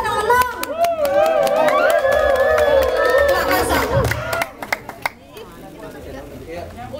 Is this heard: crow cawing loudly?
no